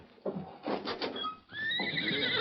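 A horse named Silver whinnies loudly in an old radio western drama, giving a rising, shrill neigh that trails off into a sustained, quavering call, heard close and alone.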